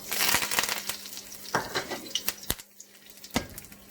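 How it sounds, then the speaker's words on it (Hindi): Fennel and mustard seeds crackle and sizzle in hot oil, with sharp pops and the clink of a spoon against the pan, close by. "तो हमारा तड़का"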